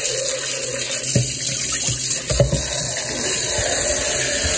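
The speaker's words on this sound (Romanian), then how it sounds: "și acum o să pun apă, să clătesc asta" A kitchen tap runs loudly and steadily to rinse a pot while cooking ciorbă rădăuțeană, with a few clunks of the pot shifting under the close, continuous gush of water.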